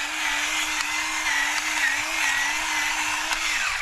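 A gravity electric pepper grinder grinds black pepper with a steady close motor whine and gritty crunching that lasts several seconds before winding down, with no talking.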